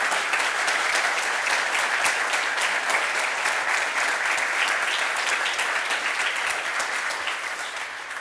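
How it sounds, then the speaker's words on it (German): Studio audience at a sports show applauding, dense sustained clapping from a large crowd at steady loudness that eases slightly toward the end. "Einen riesigen Applaus bitte"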